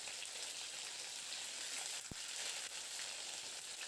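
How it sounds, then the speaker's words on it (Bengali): Flat beans frying in hot oil seasoned with black cumin, a steady dense sizzle and crackle that continues without a break, with one brief low thump partway through. "এবারে গরম তেলের মধ্যে এখানে হাফ টিস্পুন কালো জিরে ফোড়ন দিয়ে এবার কেটে রাখা সিমগুলোকে দিয়ে ভেজে নেব"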